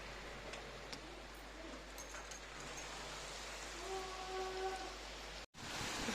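Heavy night rain pours steadily in a constant hiss of drops on surfaces, with a few faint tonal calls partway through and a brief dropout near the end.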